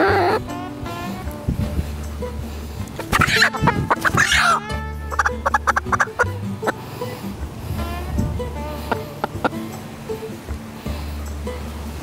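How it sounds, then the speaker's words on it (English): A hen clucks and squawks loudly in a close commotion near a dog, with repeated agitated calls and flurries of noise, and a person speaks briefly in between. "She's just making a commotion because she's close to Rocco."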